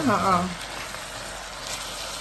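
Black pepper beef with spring onions sizzles and fries in a pan as it is stirred, a steady close hiss filling the clip, with a brief voice at the start.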